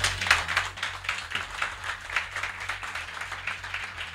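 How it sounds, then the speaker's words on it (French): A crowd at a singing contest final applauds its jury, scattered clapping that swells and thins in uneven bursts, heard from a short distance. "vous pouvez les applaudir bien bien fort."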